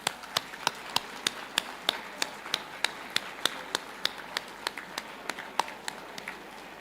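Steady, evenly spaced handclaps, faint and somewhat distant, at a white coat ceremony for medical students, each clap sharp and separate rather than a dense roar.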